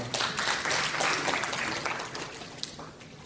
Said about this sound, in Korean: 박수로 맞으시면 고맙습니다.